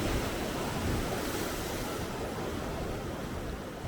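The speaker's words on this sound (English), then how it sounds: "The waves hitting the ocean wall here." Steady, dense roar of ocean surf striking a sea wall on the San Diego coast, a continuous broadband wash with no breaks, close and moderately loud.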